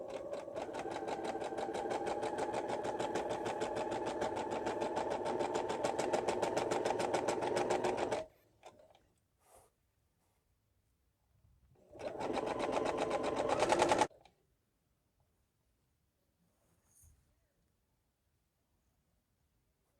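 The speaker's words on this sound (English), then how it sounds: "you're going to sew all 12 yards." A sewing machine running ribbon for a tutu, a long steady buzzing stitch run for several seconds, then a pause with faint clicks and a second shorter burst before quiet.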